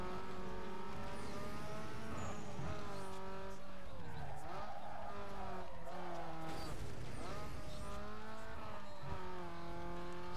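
Race car engine in Need for Speed Underground 2, revving hard and climbing through gears with repeated rising sweeps, tire squeal and close, loud roar throughout, with brief talk over it.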